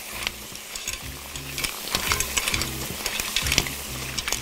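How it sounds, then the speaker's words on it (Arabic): Shrimp are stirred in a pot while cooking for seafood soup, giving repeated scraping and clattering strokes over a soft, continuous sizzle, close and without talk. "ونقلب كويس."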